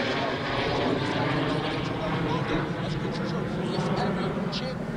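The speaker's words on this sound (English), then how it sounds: "I had no clue there was a plane above my head until I heard it." An airplane flies overhead with a broad, steady engine roar at moderate volume throughout, while a person talks in the foreground.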